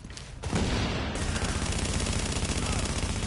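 Rapid gunfire rattles steadily in The Division, a loud continuous burst of automatic shots after a brief quieter lead-in.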